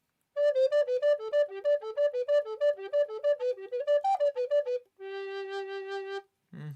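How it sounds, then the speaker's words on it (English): Alto F recorder played alone, a quick run of clear, breathy notes in a bouncing pattern, then one long sustained lower note, close and clean, ending with a brief low sound. "And this one is called in Germany an F recorder,"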